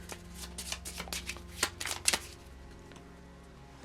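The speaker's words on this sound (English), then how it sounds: "Need to shuffle them a bit more." A deck of Marvel Champions cards is riffled and bridged in several quick bursts at close range, the crisp flutter of card edges tapering into quiet near the end.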